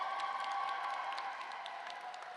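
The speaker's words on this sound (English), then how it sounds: "can you give a big round of applause for your families and friends who are here today?" Audience applause at a nursing pinning ceremony, a steady wash of many hands clapping that fills the room, holding level and easing slightly toward the end.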